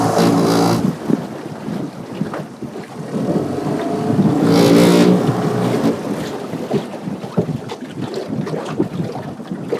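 Crabbing boat underway with its engine running, a steady rumbling drone mixed with strong wind buffeting the microphone and open-water noise throughout, no voices.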